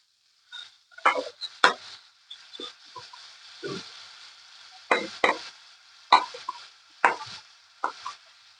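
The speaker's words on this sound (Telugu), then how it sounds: "ఇప్పుడు మన ఆల్రెడీ కట్ చేసి పెట్టుకున్న బీన్స్ యాడ్ చేసేస్తున్నాను" Cut beans tipped into a hot pan for a vegan beans and tomato curry, then stirred, giving a series of sharp scraping and clattering bursts with a light sizzle between them, close and fairly quiet, with no talking.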